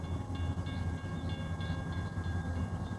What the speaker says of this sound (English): Here comes a train. You can hear it.